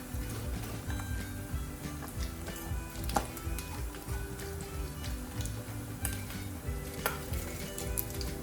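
Chicken skin sizzles and crackles steadily in a frying pan as it is cooked into crispy chicharon, with a dense, continuous hiss broken by small pops and faint clinks of cookware.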